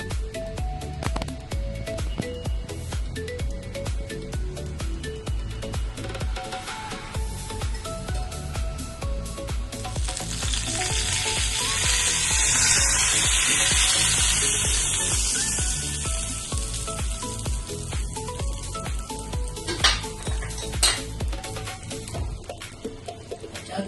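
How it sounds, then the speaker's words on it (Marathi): A loud, steady sizzle of spices tempering in hot oil, poured over steamed tricolour dhokla, swells in the middle and then settles into crackling. "आता आपण ह्याच्यावर फोडणी घालूया."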